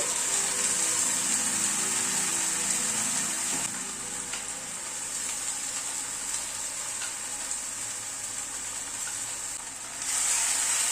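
Masala paste hits a pan of lightly fried onions and sizzles loudly and steadily, a dense hissing fry that dips slightly midway and swells again near the end, with no voices.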